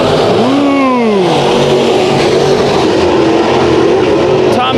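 Race cars in an eight-lap heat race at Bakersfield Speedway roar loudly and continuously, engines sweeping up and down in pitch as cars pass close by, with a commentator talking over the din.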